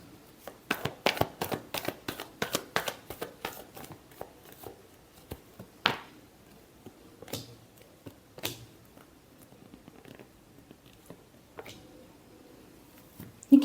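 Tarot cards shuffled by hand, a fast run of crisp riffling snaps at first, then slower scattered flicks and taps, close and quiet with no voices.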